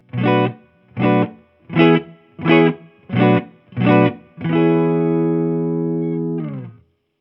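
An Epiphone 1956 Les Paul Standard Goldtop electric guitar plays six short, evenly spaced clean chord stabs, then one long sustained chord that rings out and fades, a touch of reverb on each, alone and close.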